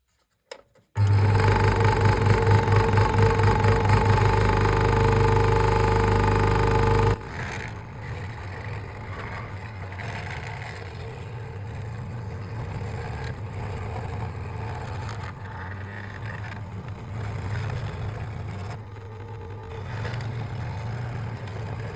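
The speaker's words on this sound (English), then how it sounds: "We should now go to the jigsaw and cut out the shape." A jigsaw cuts a wooden butter knife shape: the motor starts with a loud, steady reciprocating buzz, then settles into a rougher, slightly quieter grinding drone as the blade works through the wood, and no one speaks.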